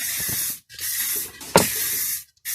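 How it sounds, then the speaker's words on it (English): Several short bursts of aerosol spray hissing, close and loud, separated by brief silent gaps, with a longer burst near the end. "Much easier to spray."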